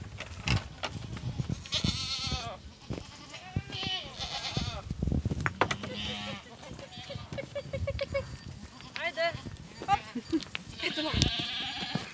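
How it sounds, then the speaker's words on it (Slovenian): A goat bleats repeatedly outdoors on a small Istrian farm, having slipped outside its fence, its wavering calls mixed with other livestock sounds while someone talks. "Pa vidim, da je ena koza izven ograje"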